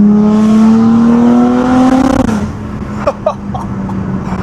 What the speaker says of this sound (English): It is incredible, this exhaust.